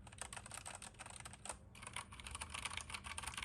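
Rapid, continuous typing on an iKBC CD108 mechanical keyboard with Cherry MX Brown switches and PBT keycaps, a dense stream of close, crisp keystroke clicks with a brief pause partway through.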